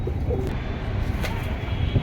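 Soft pigeon coos repeat over a low, steady background rumble, with a few faint bird calls mixed in.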